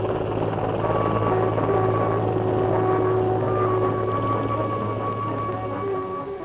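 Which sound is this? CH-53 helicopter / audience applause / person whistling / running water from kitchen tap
CH-53 helicopter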